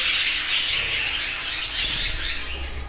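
Budgerigars in a breeding aviary chirp and tweet busily in a dense chorus, with brief soft wing flutters among the calls, fairly close and without talk.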